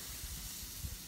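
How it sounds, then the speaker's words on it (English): Marinated leg of lamb with preserved lemons, capers, thyme and garlic sizzles on a fire pit griddle, giving a steady broadband hiss with soft low crackle throughout, close and alone. "And it really is sizzling away."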